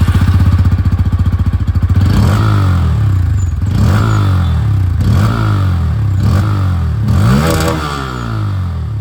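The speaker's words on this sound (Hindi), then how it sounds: "और अब यहाँ पर बात करते हैं N160 की। यहाँ पर इसकी जो आवाज़ है वो भी आप लोग सुन लीजिए।" A Bajaj Pulsar N160 motorcycle with an underbelly exhaust starts at a rapid idle thrum, then is revved several times in rising and falling bursts, loud and close, before settling back toward idle.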